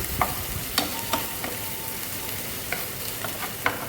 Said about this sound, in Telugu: ఇక్కడ నేను జింజర్ గార్లిక్ పేస్ట్ వేసేసుకొని ఒకసారి సాట్ చేస్తున్నాను